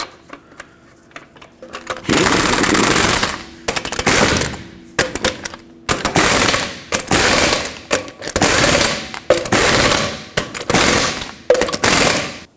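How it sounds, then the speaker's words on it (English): Lug nuts on a 2009-2014 Ford F-150 front wheel tightened with a power tool: loud, close rapid ratcheting bursts that repeat in short runs with brief pauses between them. "Start on all 6 of your lug nuts, bottom them out, and torque them in a cross pattern."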